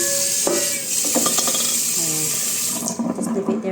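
Dirty water from boiling pork bones being poured out into a sink, a steady continuous splashing rush filling the whole moment, with a brief clatter near the end.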